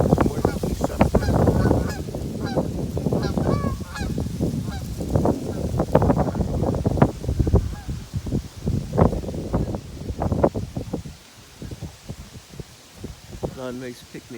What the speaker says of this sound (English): Some more geese up there.